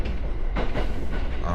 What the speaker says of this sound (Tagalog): sa tren na kami